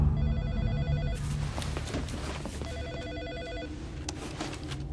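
A telephone rings repeatedly in a tense film scene, regular bursts of bright electronic ringing over a low rumbling background, with no one speaking.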